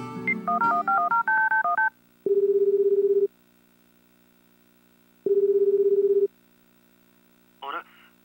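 A phone is dialed in the video game Tokimeki Memorial Girl's Side 2nd Kiss: a quick run of keypad tones, then two long, steady ringing tones separated by silence, and a brief chirp at the end.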